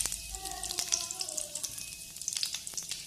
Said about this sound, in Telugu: పోపు వేసుకుందాం.